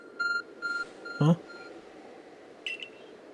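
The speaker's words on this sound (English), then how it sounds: "The arc phone is beeping." Arc Phone in Pokémon Legends: Arceus beeping, a few short electronic tones in a quick series, then a sharper blip and a later chirp, clear against a low ambient game background.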